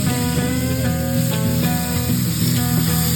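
Hamburger patties sizzle and spit steadily in a single skillet, a close, continuous frying hiss with a low hum running underneath and no talk over it.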